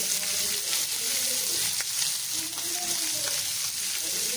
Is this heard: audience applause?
no